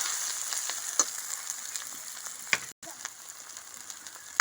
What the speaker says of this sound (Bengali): এখন মশলাটা সুন্দর করে কষে নেব